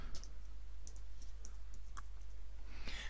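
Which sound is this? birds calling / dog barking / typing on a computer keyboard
typing on a computer keyboard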